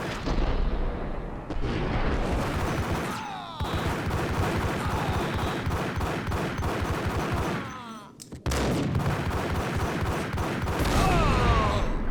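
Heavy Max Payne gunfire roars almost nonstop, loud overlapping bursts and explosive shots filling the whole stretch with only brief gaps between volleys.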